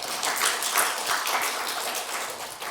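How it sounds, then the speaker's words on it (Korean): Congregation applause in a church service thanking the singers after a short hymn, a dense wash of many hands clapping steadily for a few seconds at moderate loudness. "다 같이 한번 박수로 한번 감사합시다"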